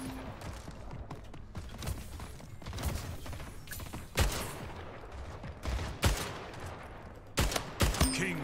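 Gunfire in the Splitgate video game, with a newly found gun firing in short bursts over a steady bed of game noise, sharp loud shots standing out near the middle and end.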